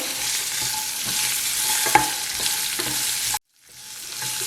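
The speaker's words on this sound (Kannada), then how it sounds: "ಈ ನೆಲ್ಲಿಕಾಯಿನ ಕಟ್ ಮಾಡ್ಕೊಂಡಿದ್ವಲ್ಲ ಈ ನೆಲ್ಲಿಕಾಯಿನ ಹಾಕೋಣ ಒಂದೆರಡು ನಿಮಿಷ ಹುರ್ಕೋಬೇಕು" Cut Indian gooseberries (amla) stir-fry in hot oil with a steady close sizzle and repeated scrapes of a spatula, no talking, until the sound cuts off abruptly near the end.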